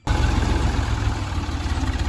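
Tractor engine idling on a farm, a loud, steady low rumble with a rhythmic chug that starts abruptly and runs on without talk.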